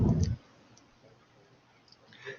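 A computer mouse button clicked once, a sharp close click near the start, followed by near silence with a couple of soft faint ticks.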